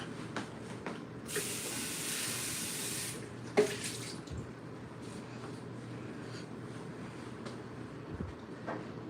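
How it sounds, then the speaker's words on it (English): Tap water runs steadily over a dish being rinsed at a kitchen sink while cooking susumba beans, a broad hiss with a brief louder burst early on and a faint clink, close and alone without talk. "So let me rinse out one of these."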